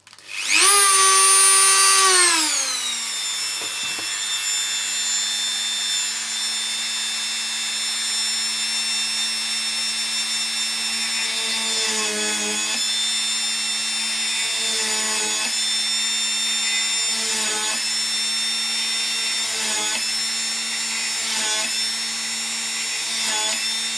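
A small power drill bores a series of holes through thin wooden coffee stirrers for a tabletop barricade model, a loud high whine that starts up, settles into a steady drone, then dips briefly with each new hole along the row.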